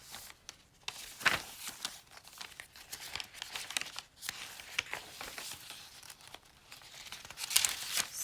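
Paper pages of a Christmas journal kit are flipped through quickly, giving continuous crinkling and rustling with frequent soft flaps and crisp page turns, close and fairly quiet.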